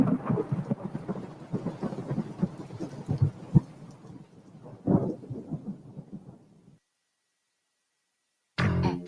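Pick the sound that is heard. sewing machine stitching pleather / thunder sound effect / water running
thunder sound effect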